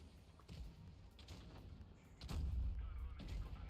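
Tank cannon shots in a World of Tanks Blitz match, heard as a couple of booming thuds with the heaviest blast near the end, over a steady low rumble of battle.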